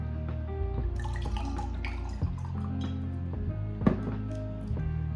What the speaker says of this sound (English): Let's pour up a little bit more.